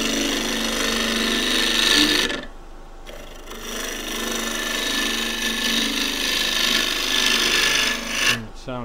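Woodturning gouge cutting green elm on a lathe through knots, a loud continuous rough rasping scrape that briefly drops out mid-cut and then carries on with rhythmic chattering, close up with no talk.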